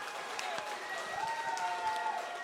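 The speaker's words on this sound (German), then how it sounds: "Und einmal einen Applaus" Audience applause at a beatbox event: a dense, steady wash of crowd clapping fills the whole stretch, with thin rising and falling tonal sweeps and some voices mixed in.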